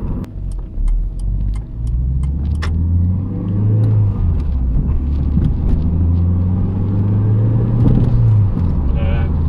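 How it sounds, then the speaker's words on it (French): Renault 21 2L Turbo engine running on the road, a low droning rumble with rising and falling pitch as it pulls, a faint turbo whistle above, while people talk inside the car. "Léger sifflement du turbo, enfin on entend un petit peu le bruit."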